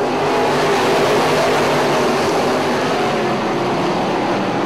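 Modified race cars roaring around a track in a Midwest Modifieds event, a loud continuous wash of engine noise filling the air with no break.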